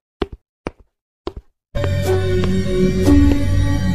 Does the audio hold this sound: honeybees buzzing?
no